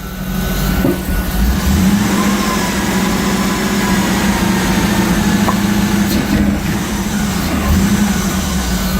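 A 1994 Chevrolet Corvette with a hard-starting, low-power fault runs steadily and loudly with a low engine drone and slight revving. No one speaks over it.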